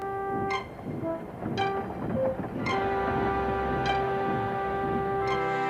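A train rolls along the rails with a steady rumble and rhythmic clicks, while a sustained tonal whistle or horn-like note hangs over the running noise.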